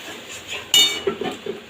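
A metal spoon stirs spice paste loosened with mutton stock in a cooking pot for a Bengali mutton jhol. One sharp clink is followed by a few softer scrapes and knocks in a brief, close burst.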